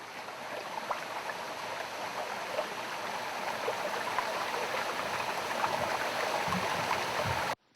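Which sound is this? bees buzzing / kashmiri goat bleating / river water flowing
river water flowing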